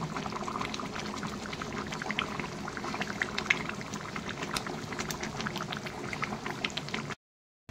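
Ghee poured into a pan of cooking food gives a continuous bubbling, sizzling wash of sound that holds steady for several seconds, then cuts off abruptly.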